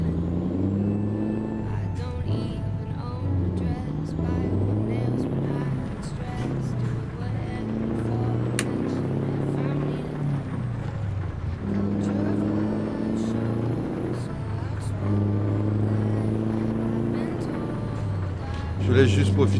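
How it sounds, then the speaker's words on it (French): A heavy truck engine drones in Euro Truck Simulator 2, rising and falling through repeated gear pulls in a low, steady rumble that lasts throughout. "Je laisse juste profiter du son du moteur."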